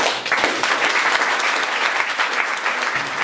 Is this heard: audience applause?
yes